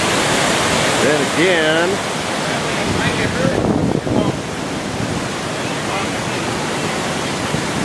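A river tributary in Northfield, Vermont, swollen after flooding, rushing as a steady, loud broadband roar close by, with wind buffeting the microphone and a person briefly speaking over it.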